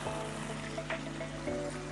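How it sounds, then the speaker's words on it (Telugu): Water trickles and pours faintly into a cooking pot in a home kitchen, a soft continuous stream with no talking. "వాటర్ కొంచెం పోసుకోవాలి"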